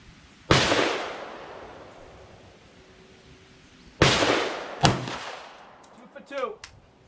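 A CZ P-01 pistol fired in double action at a distant target: two sharp, loud shots several seconds apart, the second followed quickly by another crack and fainter rattling echoes, with no voice in between.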